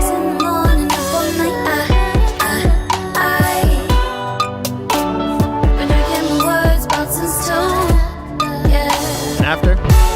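A loud, dense original music mix plays before any kick drum layering, with punchy low drum hits thumping steadily under full harmonic instrumentation throughout.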